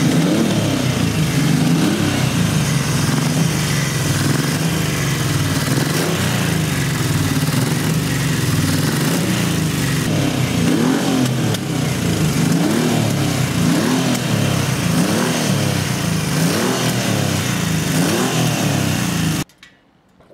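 A warmed-up Yamaha XS cafe racer motorcycle engine runs loud and close, revving and rumbling continuously before cutting off abruptly near the end.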